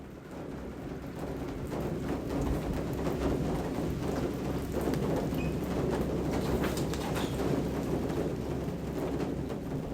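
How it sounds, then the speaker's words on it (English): Rain drums on a storefront awning in Japan, a dense steady patter of close drops with irregular heavier taps, continuous and fairly loud throughout. "That is the sound of rain hitting the awning of a storefront."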